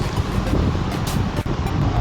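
Gusty wind buffeting the microphone during a Honda ADV350 ride in Barcelona, a loud continuous rush with a brief dip partway through.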